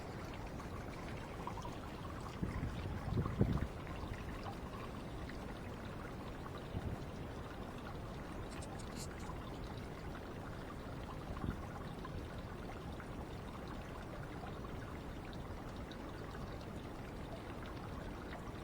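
A garden sprinkler sprays water over container plants in hot, dry weather, giving a soft continuous hiss and patter of falling water, with a few brief louder splashes and rustles early on.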